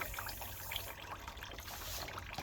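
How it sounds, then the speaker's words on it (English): Hands washed under a running kitchen tap while preparing paddlefish, a faint, steady trickle and splash of water that runs on evenly and alone throughout. "Let me wash my hands."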